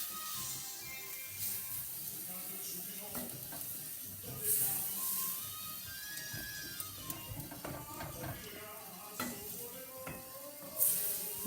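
Meat sauce with wine for pappardelle sizzles and bubbles steadily in a pan while a spoon stirs through it, with occasional scraping clinks and a voice talking intermittently over the cooking.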